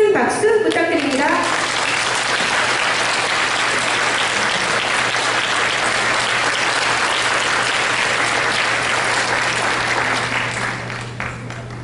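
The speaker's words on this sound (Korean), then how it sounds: "큰 박수 부탁드립니다." Audience applauding at a charity concert for people with disabilities, held by a church elders' choir in Incheon. Steady, dense clapping fills the whole stretch, loud and sustained before tapering slightly at the end.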